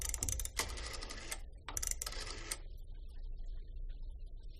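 A telephone dialed for a call in a French radio mystery drama: two short bursts of mechanical whirring and clicking close by, with a quiet pause between them, then near silence.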